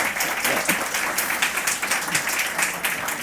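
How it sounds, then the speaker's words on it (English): A conference audience applauds speakers and panelists with continuous, even clapping that holds steady at a moderate level throughout. "your applause is for these terrific speakers and panelists"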